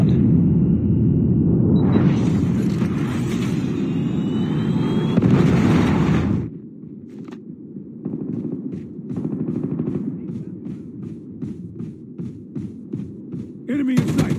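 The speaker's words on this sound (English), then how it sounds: "Hostile predator missile inbound." Predator missile explosion in Call of Duty Mobile, a loud, heavy rumbling roar lasting several seconds, which then drops away into quieter bursts of gunfire and thuds.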